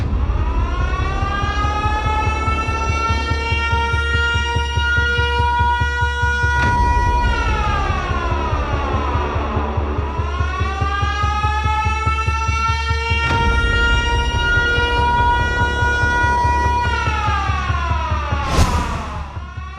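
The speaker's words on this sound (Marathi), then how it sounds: "तुमच्याही शहरात घुमणार सायरनचा आवाज" A loud civil defense air-raid siren for a mock drill in Maharashtra wails continuously, its pitch rising and falling in long sweeping cycles with a steady throbbing drone underneath.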